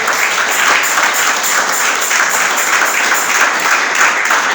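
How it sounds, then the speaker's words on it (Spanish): A church congregation bursts into loud, sustained applause, a dense wash of many hands clapping at once with a slight rhythmic pulse, heard alone without talk. "Denle un aplauso."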